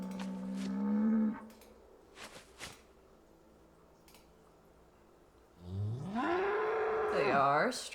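Cattle on a farm moo in two bursts: a short low call at the start, then a long, loud, rising and wavering moo near the end, with faint rustling between.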